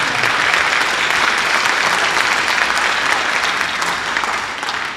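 Steady, loud applause from a crowd at a school district board meeting, dense clapping that holds for the whole stretch and eases slightly near the end.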